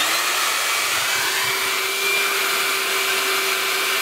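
A vacuum cleaner runs continuously while cleaning a car interior, a steady loud whine and rushing airflow held close with no pauses.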